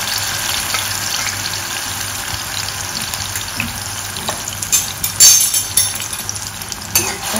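Green masala paste fries in oil with a soft, continuous sizzle, and stirring clatters and scrapes grow louder and more frequent in the final seconds.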